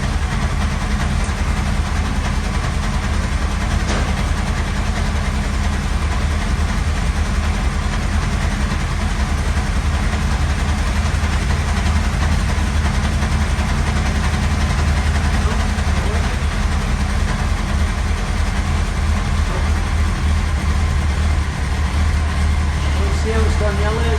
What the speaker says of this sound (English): You note the engine noise changes. The knocking stops.